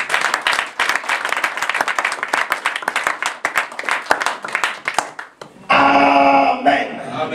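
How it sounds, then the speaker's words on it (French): A church congregation claps for the Lord in rhythmic, fairly loud applause of many hands for about five seconds, then a sudden sustained tonal musical sound takes over near the end. "Acclamons pour le Seigneur."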